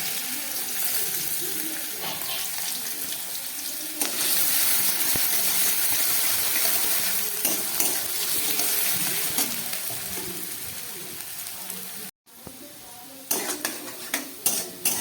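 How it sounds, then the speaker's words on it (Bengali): Potatoes frying in white oil in a kadai give a steady, close sizzle with stirring and the clink of a utensil against the pan. The sizzle breaks off briefly near the end, then comes back with a few sharp scrapes. "এই তেলের মধ্যে আমি আলুটা একটু ভেজে নিচ্ছি।"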